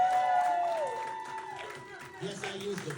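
Live audience clapping and cheering for Kneeco at a stage event, heard under a sustained tonal sound and voices, with applause rising again near the end.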